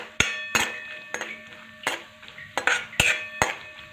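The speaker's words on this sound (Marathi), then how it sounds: "आता हे आपण असेच भाजून घेऊ" Cashew and almond slices roast in ghee in a pan as a spoon stirs them, giving sharp scraping clinks in an irregular rhythm over a soft sizzle. The sounds are close and there is no talking.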